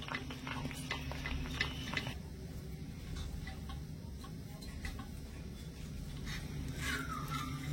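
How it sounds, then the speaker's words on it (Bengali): Semolina mixture being stirred in a pan while cooking, with steady scraping and soft clicking of a utensil against the pan, close and continuous, with no talking. "সবটুকু সুজি দিয়ে ভালো করে মিশিয়ে নেব, আর একদম হালকা আছে নেড়ে চেড়ে কিছুক্ষণ রান্না করতে থাকবো"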